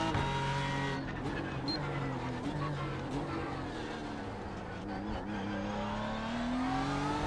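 A BMW race car in a racing game at Circuit of the Americas, its engine droning continuously with shifting pitch as it brakes and accelerates through corners, with faint tyre noise and commentary over it.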